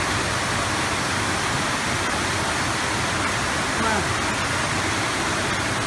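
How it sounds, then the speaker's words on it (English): Floodwater cascades like a waterfall at a flooded train station near a parking lot and tunnel, a loud, steady broadband roar throughout, with a brief exclamation from a person over it. "There's the waterfall."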